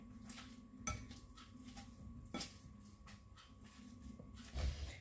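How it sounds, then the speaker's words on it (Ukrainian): Soft, repeated clatter of a utensil mashing boiled potatoes in a metal pot, with a few sharper knocks against the side, close by and steady. "нам потрібно гарненько картоплю цю розім'яти"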